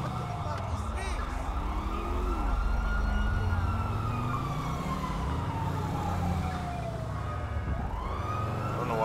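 Police car siren in GTA V wails continuously, sweeping up and down in long rising and falling tones over a low rumbling engine and game noise, loud and close.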